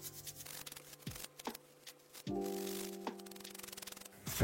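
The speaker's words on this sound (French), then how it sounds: "On va passer un petit coup de brosse." A small brush scrubs a Dupont Ligne 1 lighter part in short, close strokes of rough rubbing, faint and set against a low hum.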